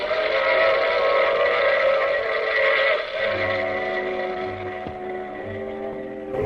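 A train whistle sounds steadily in sustained, harmonic tones, with lower blasts joining midway as the train rumbles along, fairly loud throughout.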